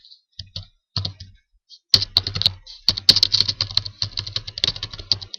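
Rapid clicking keystrokes on a computer keyboard while PHP code is typed: a few separate taps at first, then dense bursts of close, fairly loud typing with no voices.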